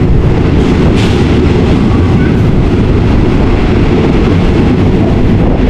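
A third-class Thai passenger train on the Hua Hin–Thonburi line rolls loudly along the rails into Taling Chan station with a constant dense rumble and rattle, close by and steady throughout.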